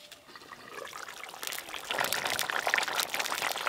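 Water runs steadily from a tap while hands are washed in a home kitchen during curry cooking, a continuous splashing flow that grows louder midway.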